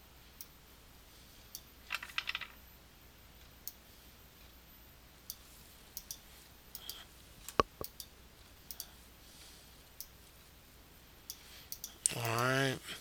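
Computer mouse clicks sound while a shape is dragged and resized in Google Slides: sparse, faint, close clicks scattered irregularly over a quiet room, with a brief voice at the end.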